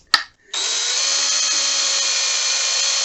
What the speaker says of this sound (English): this drill bit just isn't long enough